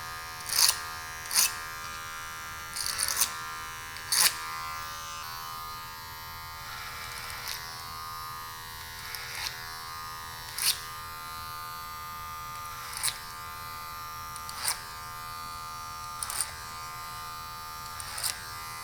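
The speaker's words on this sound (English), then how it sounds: "we're gonna hit the sides with the trimmer, give them that nice crispy edge up" An electric hair trimmer edging the sides of a high bald fade, a steady close buzz broken by repeated sharp snips and clicks as it works along the hairline.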